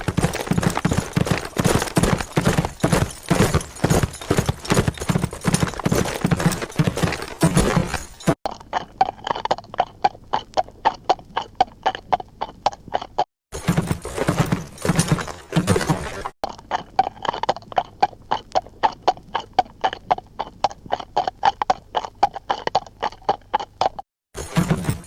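Galloping horse hooves from a phone game play as a fast, steady clip-clop rhythm that continues for the whole stretch. The sound is loud and close, with brief gaps where it cuts out.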